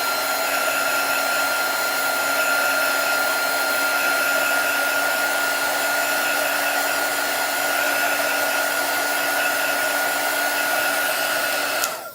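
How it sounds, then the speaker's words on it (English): A hair dryer blows on paint on a Chalk Couture farmhouse tray piece, giving a loud, close, steady whirring roar with a constant whine that lasts about twelve seconds before it switches off abruptly. "Let's get that dry."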